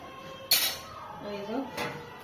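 A lid drops onto a cooking pot in a village kitchen with one sharp metallic clink, followed by quiet rattling and a second softer clank as it settles.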